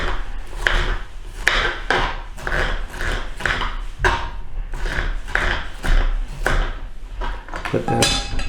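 A knife chops through a bell pepper on a cutting board, about a dozen crisp, fairly regular strokes close up, each a sharp crunch, with no talking over them.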